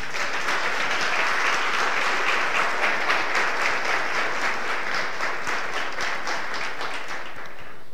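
A church congregation applauds during a sermon, a dense, steady wash of clapping that holds at full strength through the whole stretch, close and continuous with no talk over it.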